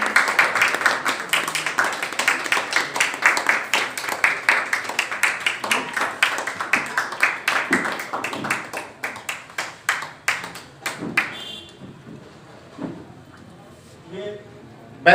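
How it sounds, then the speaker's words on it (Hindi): Audience applause at a Kanpur community ceremony held by the Vikasika organisation for the Nav Samvatsar new year, with dense steady clapping that thins out and fades into scattered claps over about fifteen seconds. "आप सबकी तालियां बजती रहनी चाहिए क्योंकि ये विकासिका का सम्मान है।"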